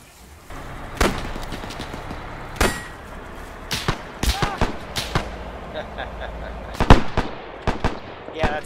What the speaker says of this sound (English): that's the sound of the ejection clip from the other one